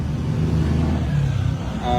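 A Ford Fiesta engine misfiring at idle, a steady low rumble with an uneven, stumbling pulse running throughout, close and fairly loud with no talk.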